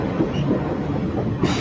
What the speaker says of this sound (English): This is the 82nd running of the CSX Santa train.